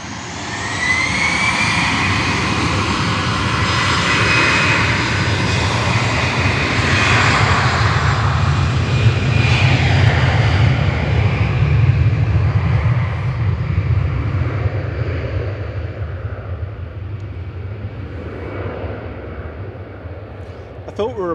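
A jet airliner departs Manchester Airport for Geneva, its engines roaring loud and steady for many seconds before the thunder slowly thins and fades into the distance.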